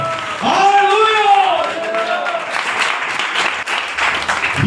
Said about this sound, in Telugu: చప్పట్లు కొట్టి ప్రభువుని మహిమపరచాలి